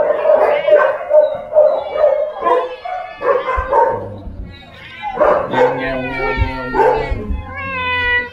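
Dogs at a large stray dog shelter in Malaysia let out a run of close, loud barks and high yelps, each burst separated by short pauses.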